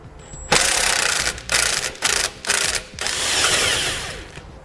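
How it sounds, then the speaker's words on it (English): A 13mm socket on a ratchet loosening and backing out a bolt from a brace on a 2016 Ford during base plate installation, with loud close bursts of rapid ratchet clicking and spinning between brief pauses, no talk. "So I'm going to be using a 13mm socket to pull it out."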